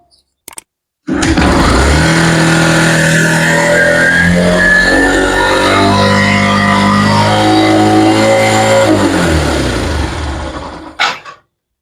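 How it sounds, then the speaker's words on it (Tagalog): A Yamaha YTX 125 motorcycle engine with an abnormally high idle runs loudly and close for about ten seconds, a raised, racing drone that wavers slightly before cutting off. "Ito ay ang yung pagwa-wild niya or uh, tumataas yung kanyang minor."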